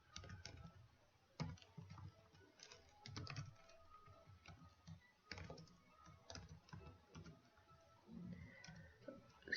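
Quiet, close computer keyboard typing while code is written, with irregular bursts of key clicks and short pauses, no talking.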